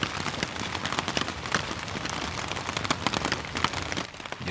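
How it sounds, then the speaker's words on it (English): Rain falls steadily outdoors at a lakeshore campsite in fall, a dense patter of drops striking surfaces close by, with no voices. "got a little rain going on"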